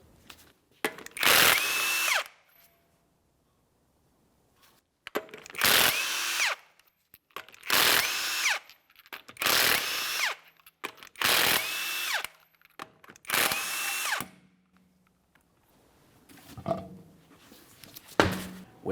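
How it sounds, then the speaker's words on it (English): Impact gun spinning off the 22mm lug nuts on a GMC Acadia front wheel, sounding as six loud, close bursts of whirring and rattling, each about a second long, separated by short pauses. "we're going to remove all of our 22mm lug nuts and then the wheel."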